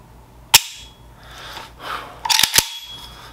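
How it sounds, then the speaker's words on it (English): Trigger of a ZPAP M92 AK-pattern pistol with a 1.5mm receiver and bulged front trunnion, pulled slowly: three sharp, close mechanical clicks, one alone early and two in quick succession near the end, over a quiet background. "Now we're gonna start moving the trigger mechanically."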